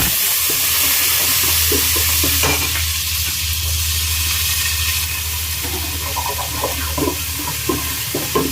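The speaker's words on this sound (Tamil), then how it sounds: "பொரிஞ்சதுக்கு அப்புறம் வெங்காயம் எடுத்து தாளிச்சிருக்கிறேன்" Steady sizzling of onions frying in hot oil for fish curry, with occasional stirring clinks and scrapes over a continuous low hiss; no voices.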